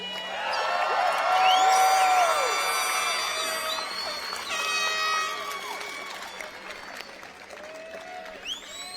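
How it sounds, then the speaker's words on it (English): At a college commencement ceremony, a large audience applauds and cheers the graduates, with sustained clapping, whoops and a horn-like blast swelling early and then gradually tapering off. "Let's give one more round of applause for our graduates."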